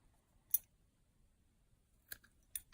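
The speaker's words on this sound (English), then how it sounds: "I'm gonna cut this" Scissors snip through crochet yarn at the end of a round: a single sharp click near the start, then a quiet pause and two or three quick close snips at the end, with no talk.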